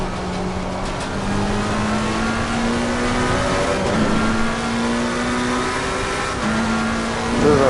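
A race car engine in the Assetto Corsa racing game, loud and close, its pitch climbing steadily through each gear and dropping at the shifts around the midpoint and near the end.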